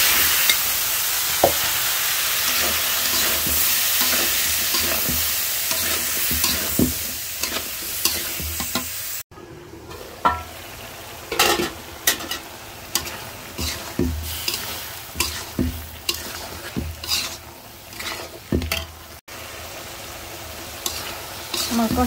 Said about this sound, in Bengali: আমার মশলা কষানো হয়ে গেছে, এখন আমি সবজি দিয়ে দেবো